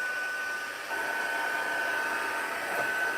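A handheld heat tool blows a steady, airy whoosh with a thin high whine while melting embossing powder on a slimline card, running nearby for a few seconds with a brief dip near the start, no voices.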